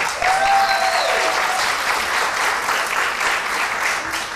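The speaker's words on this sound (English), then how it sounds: "he deserved that round of applause" A theater audience gives a sustained round of applause for a local playwright after his original play, dense steady clapping filling the room from start to finish, with a brief voice or whistle early on.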